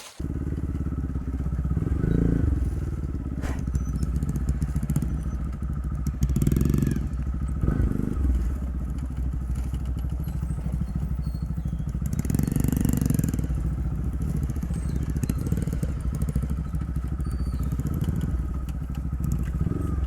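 Motorcycle engines rev and rumble steadily throughout, with rough clattering and bumps as the bikes ride over uneven ground, fairly close and loud.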